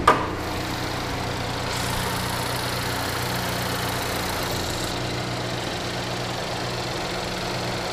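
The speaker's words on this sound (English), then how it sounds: "that Ecotec engine just kicking away" A 2011 Chevy Equinox with its Ecotec engine idling steadily under an open hood, a close, even mechanical hum with a faint ticking rhythm that holds without change throughout.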